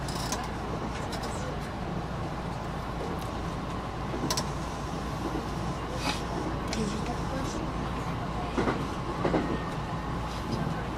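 Passenger local train on the Hakubi Line between Okayama and Soja, a new JR 227 series 500 Urara unit, with a steady rumble of wheels on rails and occasional clicks, under continuous onboard announcements.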